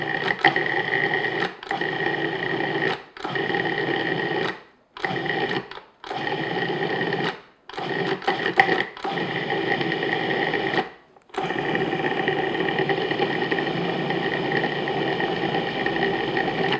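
A food processor mixing tart dough for an apple custard tart, its motor whirring loudly in a steady buzzing drone, cut into several short pulses with brief stops before a final continuous run.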